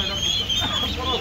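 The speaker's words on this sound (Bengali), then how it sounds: "দেশি এবং সোনালি ক্রস মুরগি আপনারা দেখতে পাচ্ছেন" Desi and Sonali cross hens, about four and a half months old, cluck in a cage at the Nimtoli poultry market in Dhaka, with a short burst of nearby clucking over busy market background noise.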